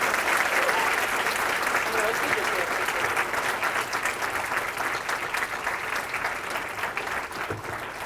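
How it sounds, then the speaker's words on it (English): An audience claps for a chef at a cooking event, sustained dense applause from a crowd that slowly tapers without stopping. "Just a round of applause for Chef Faulkner"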